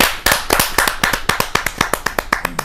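Audience at a Hindi kavi sammelan poetry gathering clapping for a poet, a loose rhythmic burst of sharp, close hand claps that grows sparser and more evenly paced toward the end.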